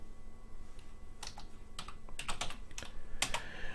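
Typing on a computer keyboard in an Excel session, as a sheet tab is renamed: scattered bursts of crisp key clicks, close and fairly quiet, with no talking.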